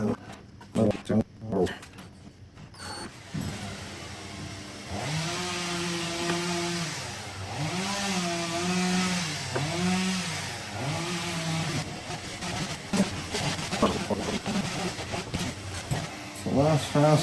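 A power tool drives screws into a GR Corolla grill, its motor whining in rising and falling bursts over several seconds. Clattering handling noises and voices come before and after the screws go in.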